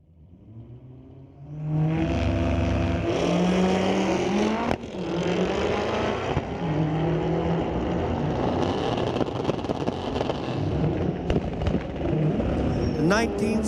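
Drag racing cars at a street-legal night at Mission Raceway Park, including a turbocharged K20-powered 1973 VW Beetle, roar hard off the line and keep a loud, sustained engine howl, with an announcer talking over the racket.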